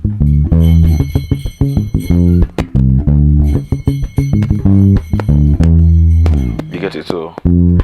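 Bass guitar working through an African groove with ghost notes, a steady stream of deep plucked notes with short muted hits between them, loud and close, with a brief burst of outside noise near the end.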